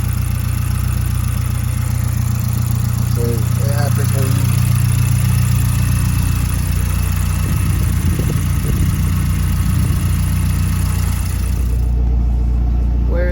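Mazdaspeed 3 fitted with a CorkSport CST4 turbo runs at a steady idle up close, a continuous low engine drone with faint mechanical ticking, and a brief voice over it near the start.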